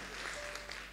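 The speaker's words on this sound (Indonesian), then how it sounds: "Bisa tepuk tangannya kencang" Loud, steady clapping from a church congregation during a Sunday service, a dense continuous wash of hands filling the whole moment without pause.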